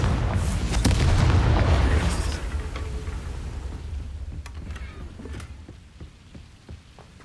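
A Confringo blasting spell explodes in Hogwarts Legacy, a heavy low boom that rumbles and slowly decays into crackling debris and scattered small impacts.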